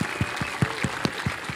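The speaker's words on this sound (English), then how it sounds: "let's just have a massive round of applause" A single person clapping in quick, steady succession, about seven close, sharp claps in under two seconds with no voices.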